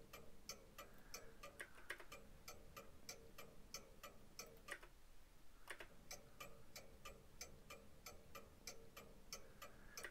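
Steady ticking of a clock, looped as a sound effect: even, regular ticks at a quiet level, with a brief gap near the middle before the rhythm resumes, and no voices.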